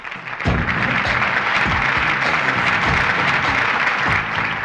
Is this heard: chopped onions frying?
no